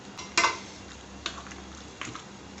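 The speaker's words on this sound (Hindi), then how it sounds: "अब इन सब मसालों को अच्छी तरह से मिक्स कर दूँगी" A few sharp clinks of a spoon against a metal pot while mixing spices into a beef trotter stew, one loud scrape followed by two lighter taps, with quiet kitchen background and no talking.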